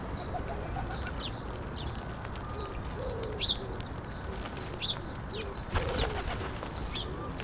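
Birds gather at a garden feeder: soft pigeon or dove coos and repeated bright chirps come and go at moderate distance over a quiet outdoor background, with no talking.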